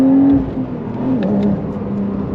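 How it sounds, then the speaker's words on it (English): Porsche 911 Carrera T on its stock exhaust accelerating, a steady loud engine drone with rising and shifting pitch heard from inside the car during a drive, with no talking. "it sounds amazing."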